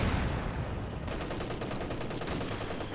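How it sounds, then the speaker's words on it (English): Sustained machine gun fire in Company of Heroes 2, a dense rapid rattle of bursts running continuously and loudly through the whole stretch, with no voices over it. "There's a machine gun probably there"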